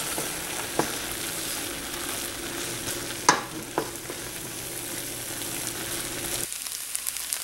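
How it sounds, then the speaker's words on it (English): Eggs fry in a pan for a one-pot rice dinner while a spatula pushes them around, giving a steady soft sizzle with a few distinct scrapes and taps, one louder clank midway, before the sizzle drops off. "get your spatula and just start moving this around"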